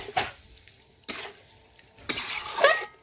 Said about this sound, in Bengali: এই দেখুন এখন আমি ভালোভাবে মিশিয়ে নিচ্ছি চিকেনের সাথে।